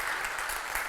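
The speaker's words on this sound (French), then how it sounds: "s'il vous plaît, de m'aider à applaudir vraiment notre président de la Fondation" A conference audience applauds, a brief, dense wash of clapping heard without voices.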